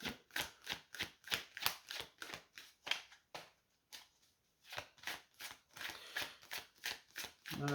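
Tarot cards being shuffled and handled during a French card reading, a quick run of crisp riffling bursts with a short pause midway, close and fairly quiet.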